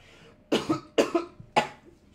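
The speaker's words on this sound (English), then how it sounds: "That was a laugh cough." A man gives a laughing cough, three sharp bursts spread over about two seconds, close and fairly loud with short gaps between them.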